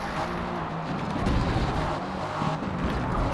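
Race car engine at speed in the video game Forza Motorsport, a dense, continuous roar with tire noise that swells slightly midway, loud and unbroken throughout.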